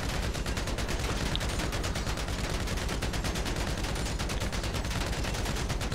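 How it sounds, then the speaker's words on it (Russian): Automatic gunfire in GTA 5 rakes a heavy Russian armored car, a fast, relentless stream of shots at an even rhythm that runs unbroken for the whole stretch, with no talk. "Просто стреляю вот так вот"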